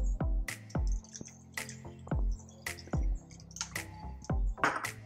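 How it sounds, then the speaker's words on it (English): An egg and milk go into a mixing bowl for pancake batter, making a series of close wet plops, drips and small splashes in an uneven rhythm. "In another bowl, add the egg, the milk,"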